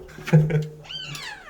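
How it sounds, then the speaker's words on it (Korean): A cat lets out a short, close meow, followed by a softer rising mewing sound. "고양이가 사람 되게 좋아하네요"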